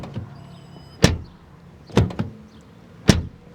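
Three separate knocks on the hollow aluminum-skinned door panel of a 2024 Ford Ranger Lariat pickup, each a sharp, hollow thud with a short ringing decay, about a second apart.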